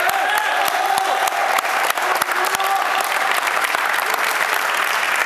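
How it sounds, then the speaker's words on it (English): An audience applauds steadily at a campus event, a dense, even wash of many hands clapping that holds at a constant level for several seconds, with faint crowd murmur underneath. "I would like to give a round of applause for them."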